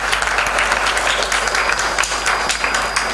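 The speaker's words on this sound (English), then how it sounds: "Big clap for Hyderabad" Loud, sustained clapping from a crowd at a children's home program in Hyderabad fills the whole stretch, dense and even, over a low steady hum.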